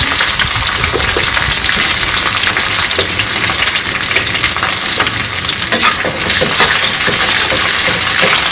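Chopped onion tossed into a pan over medium heat for chutney, loud close sizzling and frying with repeated scraping stir strokes throughout.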